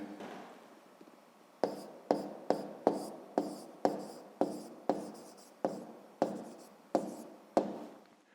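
A pen scratches out a written answer to a fifth-grade maths exercise on paper, in a steady series of short, distinct strokes with brief pauses between them, close and quiet, with no talking.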